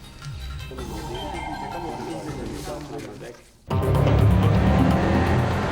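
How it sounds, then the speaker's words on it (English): An AC Schnitzer-tuned BMW 6 Series Coupe driving, its engine droning and then surging loudly past close by, with a voice speaking over it. "Test driving the 6 Series Coupe."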